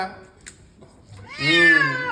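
Persian cat meowing, one drawn-out, wavering meow near the end, after a faint earlier sound, with soft background noise.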